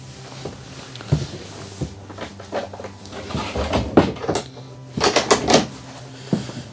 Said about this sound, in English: it does have a little closet door there